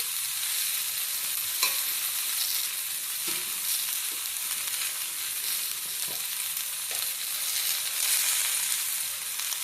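Ridge gourd and eggplant are stirred in a hot pan, with a steady sizzle under scattered scrapes and clacks of the spatula, close by and without voices.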